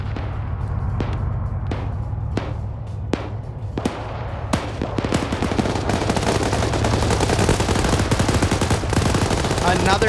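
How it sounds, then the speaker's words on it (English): A PvP video game match brings sharp single gunshots spaced about a second apart, then a dense burst of rapid automatic fire that rattles on continuously, loud and close. "And now he's getting shot at in that little corner"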